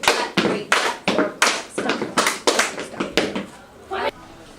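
Hands clapping in a steady rhythm, about a dozen sharp close claps evenly spaced, with voices talking between and over them.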